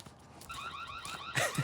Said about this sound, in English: I turned the alarm on.